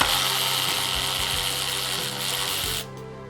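A Ryobi 18V ONE+ 3/8-inch cordless ratchet loosening a bolt whirs loud and close with a buzzy motor, its rhythmic ratcheting clicks repeating for nearly three seconds before it cuts off abruptly into quiet.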